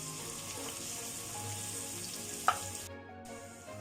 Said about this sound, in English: We're going to add some piyaj to it, and till it's lightly golden brown.